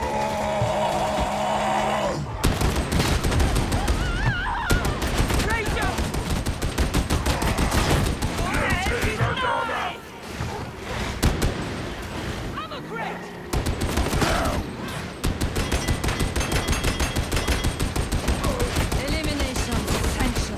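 Heavy gunfire from an Ogryn gunner in Warhammer 40k Darktide, long dense bursts of rapid shots and booms that fill the clip with only brief pauses, and someone talks over the shooting.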